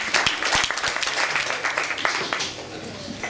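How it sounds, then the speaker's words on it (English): Audience applause with cheering breaks out for volunteer Jay at an improv talks event for a UX design group in Sydney, dense clapping sustained throughout and tapering slightly at the end, with some voices in the crowd. "Seriously, large round of applause for Jay."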